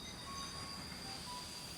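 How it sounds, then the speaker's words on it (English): A steam train arrives at Dessau station, a low continuous rumble of rail cars with faint high wheel squeal over it, fairly quiet and steady throughout, with no voices. "a steam train pulled into Dessau station"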